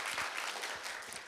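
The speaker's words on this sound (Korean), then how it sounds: "큰 박수로 맞이해 주시기 바라겠습니다" An audience at a Daejeon child-care policy forum applauds to welcome a debate speaker, a steady wash of clapping filling the short moment without pause.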